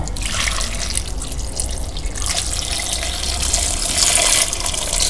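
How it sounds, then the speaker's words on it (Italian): Water is poured into a pot over vegetables and whole garlic for a lentil vegetable soup, a loud continuous rushing splash close by, with no speech. "Copro con acqua così e aggiungo il brodo son."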